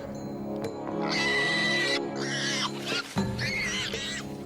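A dragon gives a call with a shifted pitch that imitates distressed prey: several strained, whinny-like harmonic cries in close bursts, loud and near, with a short pause before the last rising pair.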